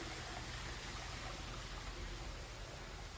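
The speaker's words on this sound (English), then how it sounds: "Can you tell I really love running water?" Running water in a garden flows in a steady, soft, even wash, faint and alone with no talking.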